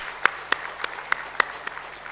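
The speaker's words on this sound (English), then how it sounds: "give them a round of applause for coming and doing this" A handful of sparse, sharp handclaps, about six in steady succession, ring out from a small audience at a Buddhist conference in Odisha, with a faint hum beneath.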